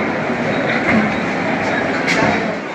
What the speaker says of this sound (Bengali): দক্ষিণ শাখায় এসে কিন্তু আমরা এখন ধরে নেবো বজবজ লোকাল আমাদের গন্তব্যে যাওয়ার জন্য।